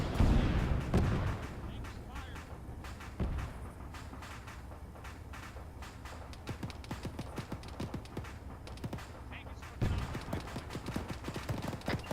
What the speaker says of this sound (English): There was a BTR off to our west cooking off